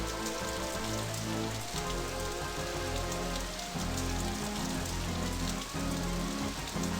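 Heavy rain pours without a break in Araknie's Death Gate, a dense, steady wash of drops drumming on surfaces, with a low tonal game background humming beneath the downpour.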